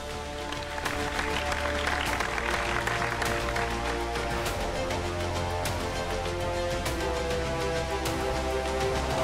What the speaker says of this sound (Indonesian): Silakan beri tepuk tangan dulu dong